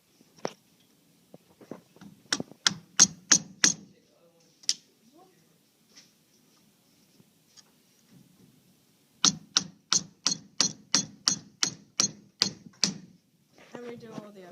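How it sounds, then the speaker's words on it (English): A chisel is struck repeatedly into wood clamped to a table to cut out a hole, giving two bursts of sharp, rhythmic knocks separated by a quiet stretch. "So now that we finished chiseling out the hole"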